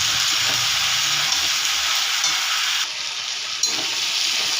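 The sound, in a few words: chopped mixed vegetables frying in pan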